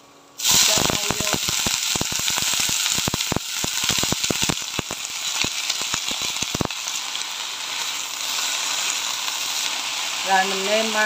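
Greens hitting hot oil with golden garlic in a wok, an instant loud sizzle followed by a flurry of sharp clicks and clatters from stirring, then a steady hiss that continues alone after the stirring stops.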